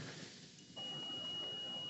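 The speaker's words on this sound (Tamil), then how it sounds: "எஸ், வேல்யூ காட்டுது, பீப் சவுண்ட் அடிக்குது" A multimeter continuity test on a fuse, giving a single sustained electronic beep that starts abruptly and holds steady, clear and close against a faint hiss.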